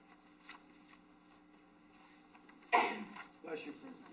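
Someone in a school board meeting room lets out a single sharp sneeze partway through, a sudden loud burst over a quiet room hum, followed by a softer rustle.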